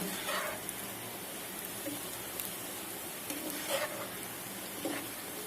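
Sliced onions frying into beresta for mutton biryani, a steady soft sizzle with occasional louder crackles and pops from the pan, continuing evenly throughout.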